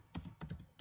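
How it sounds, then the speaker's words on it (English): Several quick keystrokes on a computer keyboard in two short bursts, close and fairly quiet, with no other sound. "I'm going to come up here and type"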